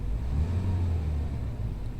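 A BMW engine with an EGR valve, running near the microphone as a steady, loud low rumble that holds roughly even throughout, with no speech.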